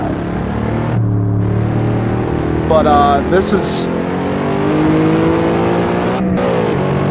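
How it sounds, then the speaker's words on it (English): Cadillac CTS-V in the racing game Assetto Corsa, engine revving and coasting with exhaust pops and backfires, running continuously under someone talking over it. "the popping noises that you get from when you take your foot off the accelerator and it's kind of coasting down, the backfiring"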